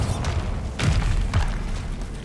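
Bombarda spell blasts in Hogwarts Legacy, a few dull booming thuds in quick succession over a low rumbling game backdrop.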